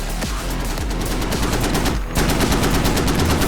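Sustained automatic weapon fire in the video game Squad, a loud, fast rhythmic stream of shots with a brief pause before the bursts resume even harder, no voices over it.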